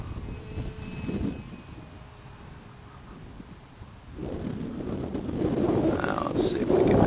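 A small XK Edge A430 brushless RC sport airplane makes a pass on a windy day, its faint motor whine rising in the second half under heavy wind buffeting on the microphone.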